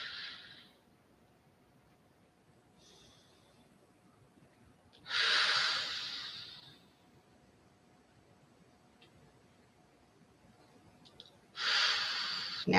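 Breathing exercise with slow, deliberate inhaling and exhaling: two long, fairly loud breathy rushes of air several seconds apart, with fainter breaths between them in a quiet room.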